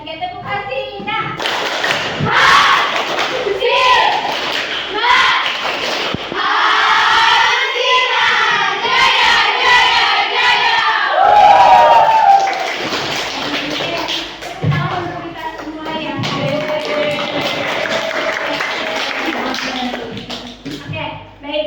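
A classroom of students plays a rhythmic ice-breaker clap game, with loud patterned group clapping and thumps mixed with chanting and shouting voices throughout, close and lively.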